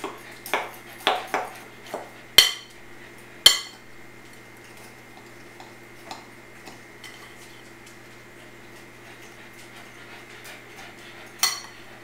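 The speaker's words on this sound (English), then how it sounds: "Mix all these dry ingredients together. I'm going to mix this big fork here." A big fork clinks and taps against a bowl while dry scone ingredients are mixed, giving a handful of sharp metallic pings early on and then quieter scraping, close by with no talk.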